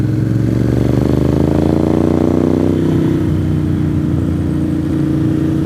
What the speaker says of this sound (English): What a great day for a motorcycle ride.